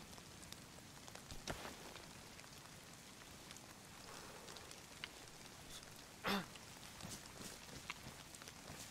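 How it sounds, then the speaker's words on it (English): Rain falls in the survival game DayZ, a faint, steady hiss of drops spread evenly throughout, with a few brief louder clicks and knocks breaking through. "I think it is starting to rain."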